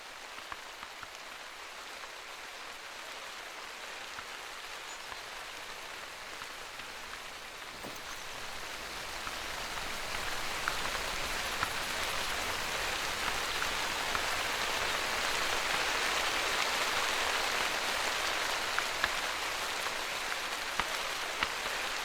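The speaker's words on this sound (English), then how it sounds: "Horrible time for the rain to start." Steady rain hisses in a hunting video game. A soft patter at first swells after about ten seconds into a denser, louder downpour that holds to the end, with no voices.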